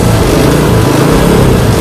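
Suzuki Supra motorcycle engine revved hard, a loud, steady, close roar held throughout the short stretch with no talk.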